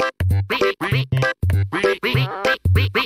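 A cartoon duck from the Pocoyo animated series quacks over and over, loud, close, nasal honks in a quick, bouncy rhythm with short gaps.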